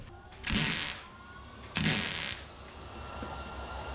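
Two short bursts of arc welding on a 1977 Datsun 620 truck, each crackling hiss lasting about half a second, close and fairly loud against a quiet background with no talking.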